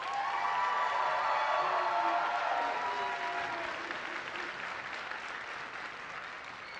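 A crowd gives a round of applause for the designers Little Bear Designs at a stage event, with dense, even clapping and some cheering that swell early on and then ease off slightly.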